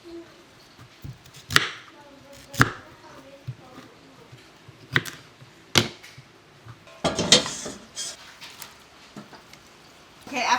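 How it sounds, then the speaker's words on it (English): A knife chopping broccoli on a board, a series of sharp irregular close thuds spaced a second or two apart, with a voice speaking between cuts. "I'm going to go ahead and chop up this broccoli"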